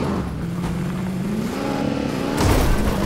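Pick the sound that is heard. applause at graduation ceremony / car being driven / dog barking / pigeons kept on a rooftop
car being driven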